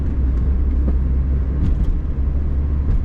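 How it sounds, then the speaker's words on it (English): A 1999 Mazda MX-5 Miata 5-speed convertible driving, a steady low engine and road rumble heard from inside the car, constant and fairly loud with no talking. "So far she shifts really good, drives really good."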